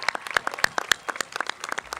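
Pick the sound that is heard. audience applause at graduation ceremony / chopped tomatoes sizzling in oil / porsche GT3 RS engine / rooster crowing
audience applause at graduation ceremony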